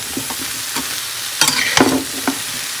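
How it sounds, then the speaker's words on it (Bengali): Ridge gourd and poppy seed curry with turmeric cooking in a pan, a steady close simmering hiss broken by a few louder scraping stirs, with no talking. "তো ঝিঙে পোস্তটা ফুটছে"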